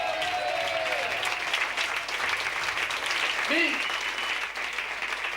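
A theatre audience applauds continuously at a stage comedy show, a dense, loud wash of clapping throughout, with a brief spoken word from a performer.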